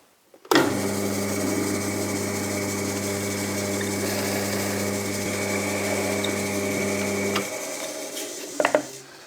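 A power drill whirs steadily at a constant pitch for several seconds, drilling out holes in a sacrificial fence for a Festool Kapex saw, then stops, followed by a couple of brief clicks and knocks.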